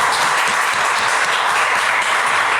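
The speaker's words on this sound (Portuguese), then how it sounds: "Vamos aplaudir Jesus" Congregation in a church service clapping together, a dense, steady burst of applause filling the space with no voices over it.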